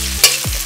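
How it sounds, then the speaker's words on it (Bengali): A spice paste of ginger, garlic and chilli being fried with onions, one quick scrape of a spoon through the pan over a soft sizzle, close and brief. "নাড়াচাড়া করে ভেজে নেবো মশলাটা"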